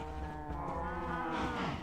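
Sheep in the video game Ancient Kingdoms bleat in a drawn-out, wavering call, loud and close, holding steady for nearly two seconds with no talk over it.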